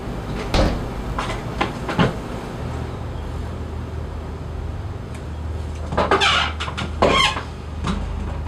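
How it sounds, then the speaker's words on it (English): An attic door bangs: several sharp wooden knocks and bangs, a few at first and then a louder cluster, over a steady low hum with no talking. "Then we can hear the attic door bang."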